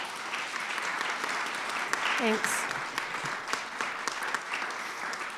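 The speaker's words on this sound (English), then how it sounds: "Can you give them a big clap, please?" An audience applauding at a community storytelling event, steady clapping from a small crowd throughout, with a brief spoken thanks over it.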